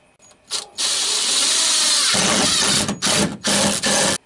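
A power drill drives self-tapping screws into a light pole post, a loud close whine in long bursts with short pauses between them.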